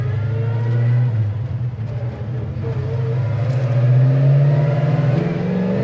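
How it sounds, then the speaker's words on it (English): A 1971 Pontiac GTO engine rumbles deeply and rises in pitch as it revs, the throaty dual exhaust note swelling close by. "that dual exhaust, when you get into it"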